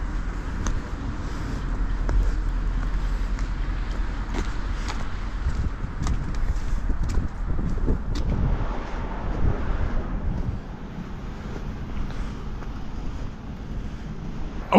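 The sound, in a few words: strong wind blowing in Hespeler, Ontario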